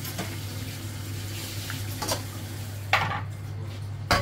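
Pork steak stirred in a pan, with a few scraping clinks of a utensil against the metal over a steady low hum and faint frying.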